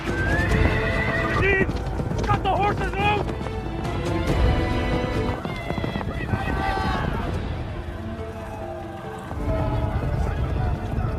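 Horses released with their loads gallop off with steady clip-clop hoofbeats and repeated neighs and whinnies, loud and busy throughout, over a dense, full background.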